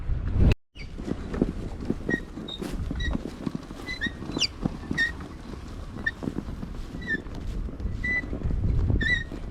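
Wind gusting across a fishing spot in low-lying terrain, a steady broadband rumble that swells and eases, with thin high chirps like birds calling intermittently over it and a brief dropout near the start.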